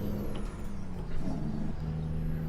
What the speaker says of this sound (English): Really makes that jake brake sound pretty darn good